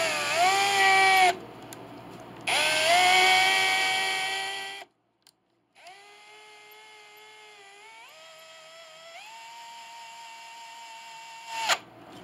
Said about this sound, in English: Put the agraff in, put our drill on here.